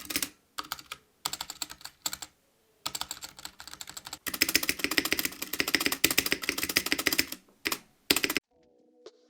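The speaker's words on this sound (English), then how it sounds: "The stabilizers are way too loud." Keys on a mechanical keyboard are pressed in quick bursts, the larger keys' unlubed stabilizers giving loud rattling clacks, close up with short silent pauses between runs.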